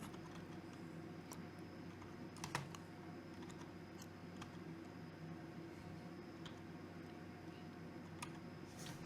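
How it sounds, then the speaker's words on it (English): Quiet, steady typing on a computer keyboard, with irregular soft key clicks and a few sharper taps, heard alone at low level. "I'm going to type in proc format."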